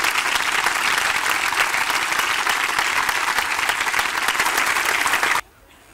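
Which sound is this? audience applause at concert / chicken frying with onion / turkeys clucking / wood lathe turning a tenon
audience applause at concert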